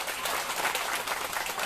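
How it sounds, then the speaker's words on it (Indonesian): Applause for Lape village in Sumbawa at a village health post launch event, a steady dense clapping from a crowd filling the whole moment without pause. "Tepuk tangan dulu untuk Desa Lape."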